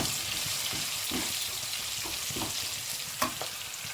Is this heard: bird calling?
no